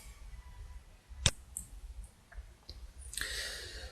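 A computer mouse clicks once sharply and close up, followed by a few fainter clicks against quiet room noise.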